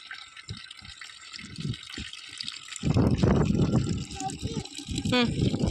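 Water splashes and gushes in uneven bursts, poured from a bucket onto plants, with brief voices and small clatters around it.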